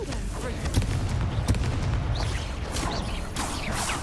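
Repeated Confringo blasting-spell explosions in Hogwarts Legacy, several sharp booming bursts scattered through dense low rumble, with a voice speaking over the action.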